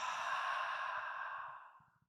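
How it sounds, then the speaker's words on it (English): A single deep exhale through the mouth, done as a breathing exercise, rushes out loud and close for about two seconds before fading away. "And then breathe out through the mouth."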